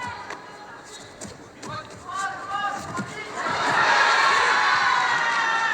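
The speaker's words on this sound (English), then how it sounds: "So really big cheer in the crowd for Lee" Crowd at a judo match, the Tokyo Grand Slam 2023 under-81 kg final, bursts into a loud cheer that rises and holds after scattered thumps and shouts, with a commentator talking early on.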